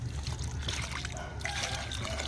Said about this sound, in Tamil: எப்போ உரம் கொடுத்தாலும் உடனே தண்ணி கொடுத்துருங்க